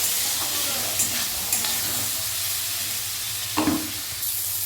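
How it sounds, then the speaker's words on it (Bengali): Bitter gourd (kakrol) with salt and turmeric frying in a pan, giving a steady, close sizzle with a few brief stirring scrapes. "দু এক মিনিট কাঁকরোলটা ভেজে নেওয়ার পর"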